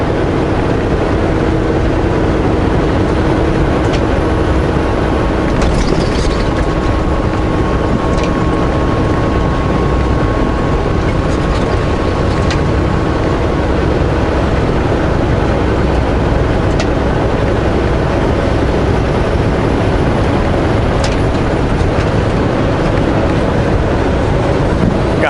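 A long train rolls past on tracks beside Highway 14, a steady, loud, continuous rumble and rattle lasting throughout with no pause, a faint high squeal and brief clanks drifting over it.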